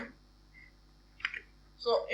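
Keystrokes on a computer keyboard while entering a command during an Arch Linux installation, a few soft isolated clicks followed by a short quick burst of typing, close and fairly quiet.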